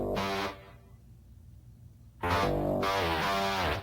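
Synthesizer intro of a song: a bright, swirling electronic tone, then a quiet dip, then the full layered synth sound returning loud.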